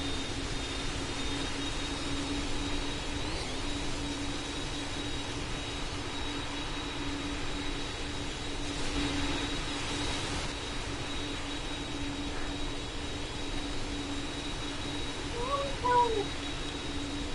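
In a Roblox flight game, an aircraft taxis toward runway 11 with a steady, even engine drone throughout, a faint whine above it and a brief chirp near the end.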